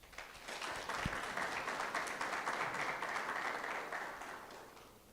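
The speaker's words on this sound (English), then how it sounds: "I would like us to give the QCMC and colleagues a round of applause." An audience at a university campus inauguration ceremony applauds, steady clapping swelling in and sustaining for several seconds at a moderate distance.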